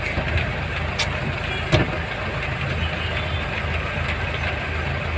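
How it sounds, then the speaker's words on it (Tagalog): Car engines idle in a heavy traffic jam on the road to Valenzuela, a steady low rumble with a brief louder knock, no talk over it. "Traffic na traffic talaga."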